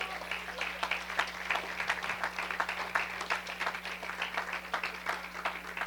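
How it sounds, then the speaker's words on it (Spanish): A church congregation applauds together during a Spanish-language sermon, a dense, steady patter of many hands clapping at moderate distance, with a low hum underneath. "Démosle un aplauso al Señor."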